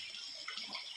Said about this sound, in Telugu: పైనుండి జలపాతం అలా వస్తూ ఉంది,